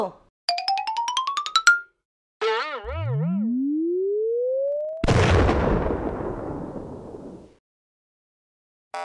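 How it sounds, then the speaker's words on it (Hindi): Cartoonish Diwali firecracker sound effects: a rising whistle building up, then a sharp bursting bang that crackles and fades, preceded by bouncy tonal blips. "मोटा चिंटू तू अभी से पटाखा जला रहा है"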